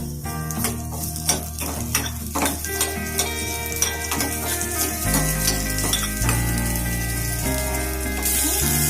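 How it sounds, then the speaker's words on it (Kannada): Oil frying in a pan with green chillies added, a steady loud sizzle with repeated utensil scrapes and taps early on and tonal hum-like background throughout, no speech. "ಎಣ್ಣೆ ಹಾಕೊಂತ ಇದ್ದೀನಿ, ಸ್ವಲ್ಪ ಫ್ರೈ ಹಾಕಬೇಕು"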